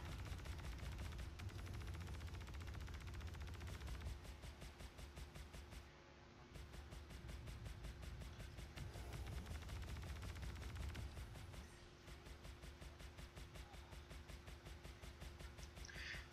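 Ballistic guns firing during a space dogfight in the Star Citizen video game, flying a Gladius: faint, steady rapid fire that runs almost throughout, with two brief dips, and no talk.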